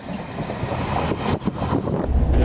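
Train at a railway terminus in Tunisia, a broad rumbling rail noise with wind buffeting the microphone, steady and fairly loud with a brief dip partway through.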